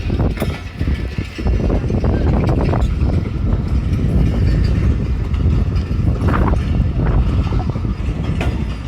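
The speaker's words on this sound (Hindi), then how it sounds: "ट्रेन आपके सामने जा रही है, ML1 11 अप हज़ारा एक्सप्रेस।" Hazara Express passenger train of 11 coaches passing through Badin railway station in Pakistan, with a loud, continuous rumble and rhythmic clatter of wheels on the track close by, no talk.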